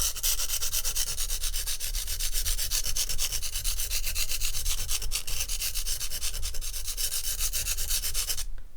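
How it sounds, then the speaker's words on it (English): A steel knife blade with a broken tip is ground on a sharpening stone, making a steady, loud, continuous rasping scrape with a fast back-and-forth rhythm close up that stops abruptly at the end. "instead of grinding down in a linear fashion where I'm just pushing into the stone, I'm actually rocking the knife"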